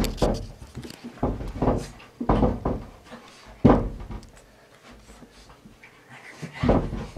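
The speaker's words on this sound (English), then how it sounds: "You can hear both my dogs now slamming themselves into the door." Two small dogs, a Shih Tzu and a Pug-a-Pom, bump and thud repeatedly against a door in irregular dull knocks, with panting and brief scratching between impacts.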